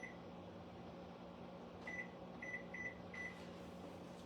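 A microwave oven hums steadily while baking sour cream coconut muffins on a four-minute timer, its low drone joined midway by several short, bright electronic beeps.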